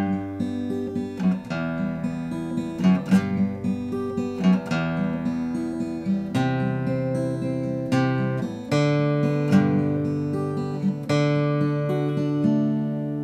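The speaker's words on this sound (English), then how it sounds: "So I'm gonna do it first with the thumb pick, and then I'm gonna do it with the finger picking." Acoustic guitar fingerpicking with a thumb pick, the bass notes bright and clearly ringing under a steady arpeggiated melody, played solo and close for about thirteen seconds.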